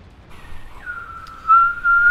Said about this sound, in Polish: Nie gwizdaj w mikrofon.